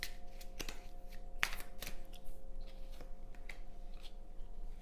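Oracle cards being handled and shuffled during a tarot reading, quiet crisp flicks and slides of card stock close up, a few sharper snaps, no speech.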